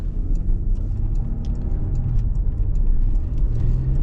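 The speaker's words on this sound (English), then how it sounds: "We can give it some gas in Sport Plus mode." A 2022 Porsche Cayenne SUV engine rumbles low and steady in Sport Plus mode, with a deeper surge building toward the end as it accelerates; no voices.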